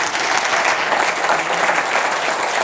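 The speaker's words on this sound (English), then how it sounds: "I would just wonder if you could give a round of applause for the panellists," A conference audience applauds its panellists at a life insurance industry event, steady dense clapping filling the hall evenly from start to finish.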